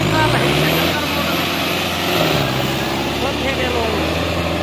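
A Sonalika 750 tractor engine runs hard at high RPM in second gear on wet ground, a loud steady drone with a rising whine, held constant throughout.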